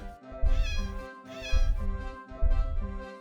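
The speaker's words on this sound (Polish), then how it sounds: "O, kotek." Cat meowing in the video game Turtle Riders: three drawn-out, clear meows in even succession, loud and close, with no talking over them.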